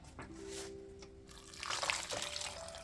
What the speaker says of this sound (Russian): И все это дело заливаю водой.